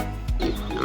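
A pig oinks once close by, a short low grunt on a farm at feeding time, heard alone.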